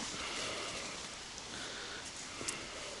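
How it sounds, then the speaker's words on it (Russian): Soft, steady rain patters on a forest campsite by a taiga river, a faint continuous hiss with a few scattered drips and no voices. "Дождик."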